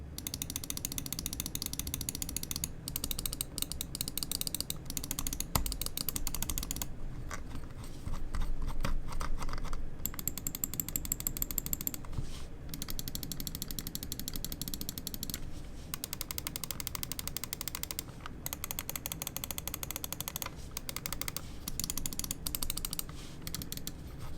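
Rapid, steady clicking and ratcheting from the scroll wheel and buttons of a Glorious Model D lightweight gaming mouse, continuous and close-up for the whole stretch, with no voices.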